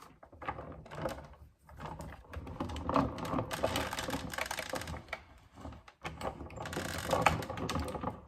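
A Sizzix die-cutting machine runs texture roll paper through its rollers, giving a steady mechanical grinding and clicking rumble that continues for several seconds with a couple of brief pauses, close and moderately loud.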